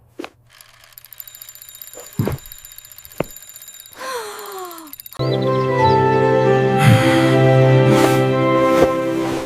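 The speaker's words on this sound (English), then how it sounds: "The alarm is ringing loudly." An alarm clock rings loudly and steadily, a bright repeating electronic tone filling the second half after a few scattered knocks and rustles.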